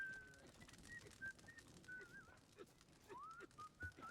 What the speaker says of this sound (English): That's pretty pleasant whistling.